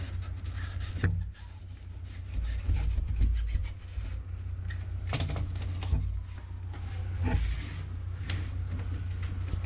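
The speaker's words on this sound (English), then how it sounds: "take this snappable utility knife. Trim it off." A snap-off utility knife trims hardened expanded spray foam inside a campervan, giving close, dry scraping and rasping strokes with a few sharper cuts across a steady low background hum.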